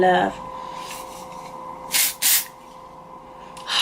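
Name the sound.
spraying Living Proof Healthy Hair dry shampoo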